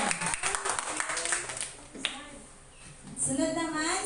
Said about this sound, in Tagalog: palakpakan naman natin si Erica Asuncion.